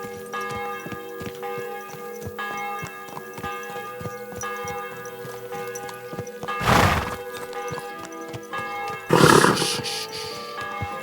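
Horse in the medieval game Kingdom Come: Deliverance 2, hooves clip-clopping steadily under a sustained bell-like tone, with two loud neighs breaking through partway.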